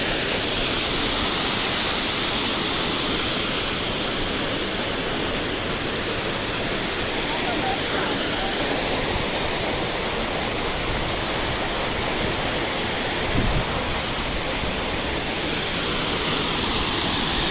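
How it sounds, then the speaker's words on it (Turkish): Steady, powerful roar of Tortum Waterfall, Turkey's largest waterfall, dense broadband rushing water filling the whole clip without pause. "Türkiye'nin en büyük şelalesi Tortum Şelalesi'nden selamlar herkese"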